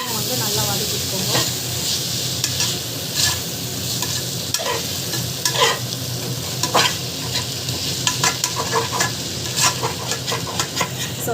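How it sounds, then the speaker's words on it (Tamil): Tomatoes sautéing in a pan, a continuous close sizzle broken by frequent scraping and clattering strokes of a spoon stirring, louder bursts coming in irregular clusters. "இப்போ வந்து டமாட்டா வந்து ஆட் பண்ணலாம். இன்னும் வந்து நல்லா வதக்கிக்கோங்க"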